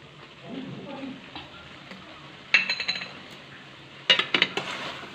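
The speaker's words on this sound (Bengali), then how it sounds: "ভালো করে মিক্স করে নিতে হবে" Mutton korma fries in a pan as cashew paste is mixed in, a low steady sizzle broken by two clusters of sharp spoon clinks and scrapes against the metal, close and clear with no talking.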